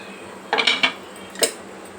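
A lid is set on a metal pan of egg fried rice, giving a few close clanks and a rattle, then a single light clink.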